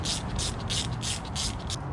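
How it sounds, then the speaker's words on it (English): A small 1/4-inch ratchet with a 10mm socket tightens bolts on a first-generation Toyota 4Runner solid front axle, giving five or six quick, close bursts of rapid clicking in an even rhythm. "So I got my little 1/4-inch ratchet, 10mm socket, and I'm going to cinch these up."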